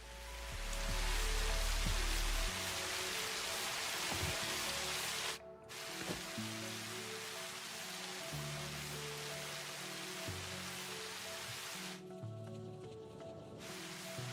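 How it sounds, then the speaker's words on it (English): Rain falling in the video game Satisfactory, a continuous soft hiss of rainfall under low game ambience and tonal hums, briefly dipping and returning, with no voices. "I can only hear the rain there."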